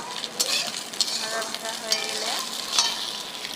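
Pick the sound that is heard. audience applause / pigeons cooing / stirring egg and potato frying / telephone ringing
stirring egg and potato frying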